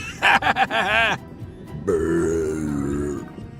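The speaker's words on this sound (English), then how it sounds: "You call that a burp? This is a burp." A long, loud, deep burp that rumbles and drags on for over a second, following a few short vocal bursts.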